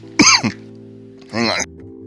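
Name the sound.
coughing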